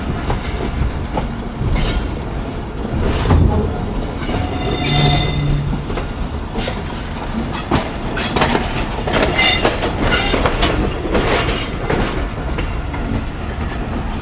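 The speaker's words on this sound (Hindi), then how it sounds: "ये है जी मशहूर मलकवाल जंक्शन की डायमंड क्रॉसिंग, इसके ऊपर से ट्रेन हमारी गुजर चुकी है" The Millat Express rolls over the diamond crossing at Malakwal junction, loud rhythmic clickety-clack of wheels over crossing rails with brief squeals, heard from aboard the moving train.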